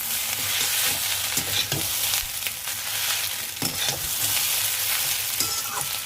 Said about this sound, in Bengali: এবার আমি এর সাথে একটুখানি ডিমগুলোও মিক্স করে দেবো।